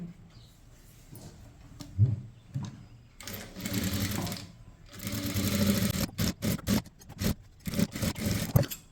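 A sewing machine stitches along the edge of a chudithar top's fabric, running in a steady whirring, needle-tapping stream that speeds up and slows with short stops and fabric shuffling, close and moderately quiet.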